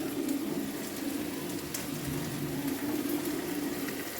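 Prawns frying with onions in hot oil, giving a steady, dense sizzle and bubbling that stays loud and even throughout, with no talking.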